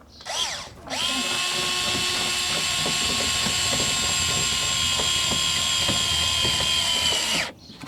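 A power drill drives screws while a Maxton Design front lip is fitted to a Mazda MX-5 NB, giving one sustained close whine of about seven seconds with a clicking ratchety texture and a quick spin-down at the end.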